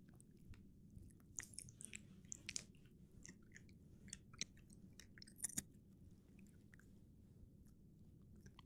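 A dog crunches on a treat indoors, with a series of small, sharp crunches scattered over a steady low background hum.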